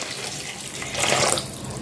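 A short burst of water poured into a pot of brinjal gravy, swelling briefly in the middle and then easing off, fairly quiet.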